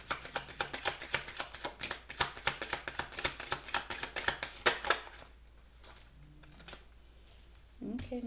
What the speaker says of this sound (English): And I'm shuffling this whole deck upside down.